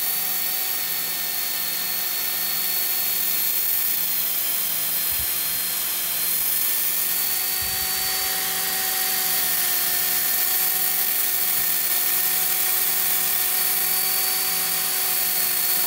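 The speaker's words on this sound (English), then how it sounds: "So we're going to start off in a high speed and just sand side to side." A wooden ice cream scoop being sanded on a lathe running at high speed gives a steady, loud whirring hum with a high-pitched tonal whine and a faint rubbing hiss, continuous throughout with no talking.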